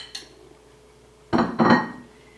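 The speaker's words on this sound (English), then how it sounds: "all we need to do now is just add the mushrooms" Sliced mushrooms tipped into a pot of simmering goulash with soft meat and vegetables: after a faint clink, two quick close thuds and rustles as they land.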